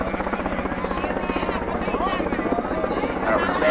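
Helicopter hovering with a pickup truck slung below on a rope, a steady loud rotor thrum and turbine whine filling the whole stretch, with voices talking over it.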